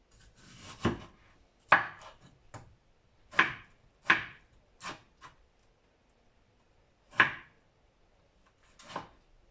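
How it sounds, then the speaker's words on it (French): A knife chops through watermelon and tomato on a cutting board: about eight separate sharp cuts in an irregular rhythm, close and clear, with quiet pauses between them and no voices. "Ensuite, mon pastèque, ma tomate, je la découpe juste un peu."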